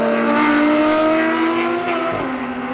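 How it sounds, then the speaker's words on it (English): A Porsche boxer flat-six race car in Touring 2 spec at the SCCA National Championship Runoffs screams loudly near its rev limiter, holding a high steady wail before the pitch drops as it passes. "nothing like a Porsche Boxer Flat 6 at up on the cam, that's for sure."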